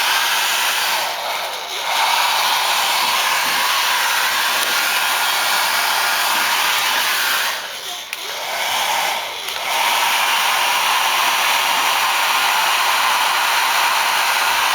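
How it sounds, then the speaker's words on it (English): A hair dryer blows steadily on rice packed in a makeup brush holder, a loud continuous airy roar held for the whole stretch, briefly dipping twice as the angle shifts. "So I'm gonna just blow dry it"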